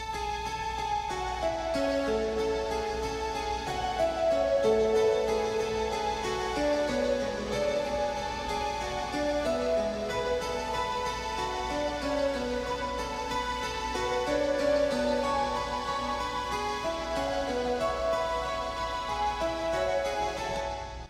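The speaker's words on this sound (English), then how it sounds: "I wrote this little sequence and stacked up a bunch of different synths because I did want this to sound like" Layered synthesizers stacked in Logic Pro play a shimmering, cascading sequence of many quick bright notes meant to evoke falling water, steady and full throughout with no voices.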